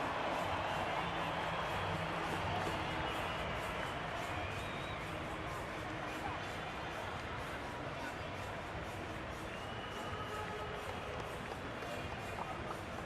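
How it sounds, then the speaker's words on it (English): Big rugby sevens stadium crowd at the Cape Town World Cup Sevens, Samoa versus Fiji, a steady loud roar and hubbub filling the whole stretch with no letup. "Listen to this crowd."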